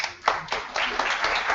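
Applause from an audience at a neuroscience conference in Ecuador welcoming a speaker: a short burst of hand clapping that swells in uneven waves, fairly close and dense, with a murmur of voices faintly underneath.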